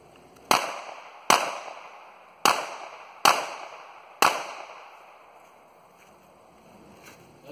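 Five sharp pistol shots from a Ruger LCP .380 fired in a live-fire run from a purse, spaced about a second apart with a short pause before the last, each cracking loudly and ringing out, with no talking.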